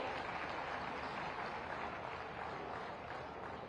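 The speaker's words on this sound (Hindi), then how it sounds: "आप सभी की जोरदार तालियां मंच तक जरूर पहुंचनी चाहिए।" Audience applause fills a hall at a public conference in Mathura, a dense, steady wash of clapping from many hands that holds at an even level throughout.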